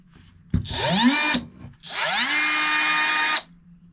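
A Milwaukee M12 Fuel cordless cut-off tool whirs up to a high-pitched whine twice, each burst about a second or more, spinning down between runs.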